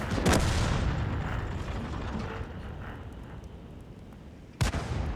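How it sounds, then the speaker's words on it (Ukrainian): A heavy KV-2 tank cannon boom in the video game World of Tanks at the start that rolls off into a long rumbling decay, then a second sharp blast near the end. "що це за постріл такий був дивовижний"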